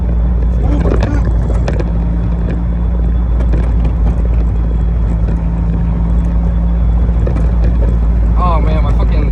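A car driven just after a fuel leak repair, heard from inside the cabin as a loud steady engine drone mixed with road and wind rumble, while the driver talks over it.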